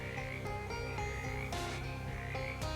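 Video-game frogs in Shadows over Loathing croak repeatedly, several clear croaks spaced over a constant ambient backdrop, fairly close and moderately loud.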